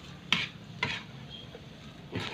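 Garlic and onion sautéing in a pan, a low continuous sizzle punctuated by a few sharp clinks and scrapes of a utensil stirring, close and moderately loud with no talking.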